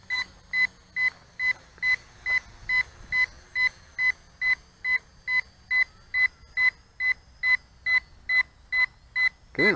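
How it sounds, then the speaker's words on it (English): A SHRC H1G quadcopter's warning beep repeats steadily, about two short electronic chirps per second, loud and insistent throughout with nothing else competing. "you got to deal with this annoying beep"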